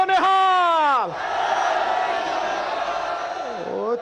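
A large crowd at the Kartarpur Corridor ceremony roars back a Sikh jaikara response, a loud sustained collective shout after a single voice's call, holding for several seconds and tailing off near the end.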